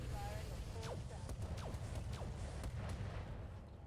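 Incendiary weapons fired in the RogueTech mech game, a quiet run of repeated booms and firing thumps over a low rumbling bed, with a voice talking over it.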